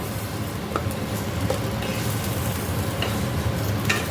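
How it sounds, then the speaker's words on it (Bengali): Potatoes frying in hot oil tempered with dried red chilli and garlic, a steady close sizzle with faint stirring clicks, no talking. "আলুগুলো আমি একটু ফ্রাই করে নেবো"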